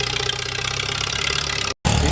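A loud, steady tractor engine rumbles nearby at a tractor pull at a gas and steam engine show, with a throbbing idle, cutting out for an instant near the end before roaring back.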